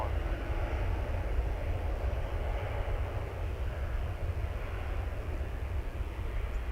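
A Spirit Airlines jet in bright yellow livery at foggy DFW International Airport gives off a steady, broad engine roar that holds evenly throughout, moderately distant.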